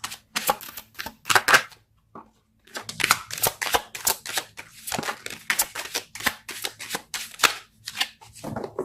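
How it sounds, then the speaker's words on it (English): Tarot cards shuffled and pulled during a love tarot reading, a run of crisp, close riffling and slapping bursts with brief pauses, loud and alone without talk. "Let's pull a card for your"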